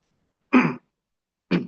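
Two short throat-clearing coughs, about a second apart, close and fairly soft in an otherwise quiet room.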